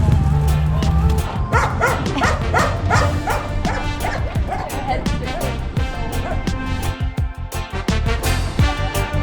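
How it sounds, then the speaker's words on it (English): Several dogs bark and yip repeatedly, close and fairly loud, in a rhythmic run of barks over steady background noise, likely outdoors near a boat mooring with free-roaming animals. "Chased by dogs"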